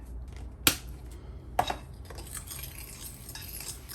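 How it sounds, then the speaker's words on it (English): A fork stirs and scrapes through turkey and sausage meatball mixture in a bowl, with a couple of sharp clinks against the dish among soft, quiet mixing sounds. "So we'll get that mixed up with the fork"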